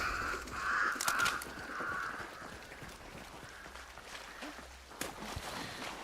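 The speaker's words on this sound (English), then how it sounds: "Setting off all the crows." Crows cawing in a video game, a few harsh caws near the start and again around the fifth second, fairly faint over rustling footsteps and game background noise.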